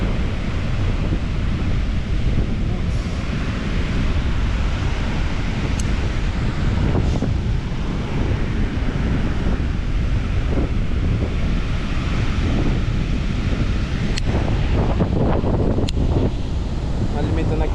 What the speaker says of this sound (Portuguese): Olha o vento, velho.